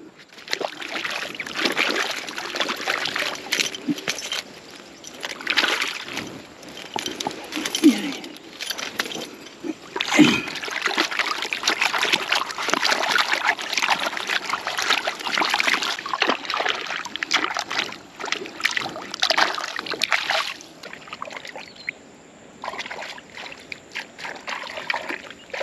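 Water splashes and trickles continuously as someone washes mud off in a river beside a hut, with irregular splashy bursts and sloshing close by throughout.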